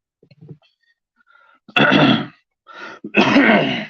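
A few faint murmurs, then two harsh bursts of coughing and throat clearing, close and loud, separated by a short gasp.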